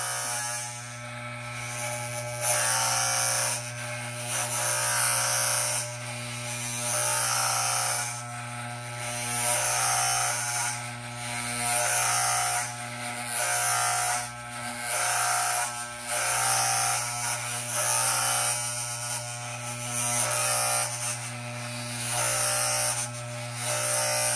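An electric beard trimmer buzzing steadily while trimming a beard, a loud motor hum that swells and dips in repeated passes as it moves across the face, with no talk over it.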